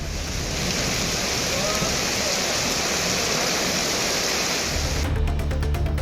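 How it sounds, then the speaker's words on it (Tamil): Heavy rain driven by gusty wind in Tamil Nadu pours down as a dense, loud, continuous roar, then shifts abruptly to a choppier texture in the last second. "சூறைக்காற்றுடன் மழை பொழிந்தது"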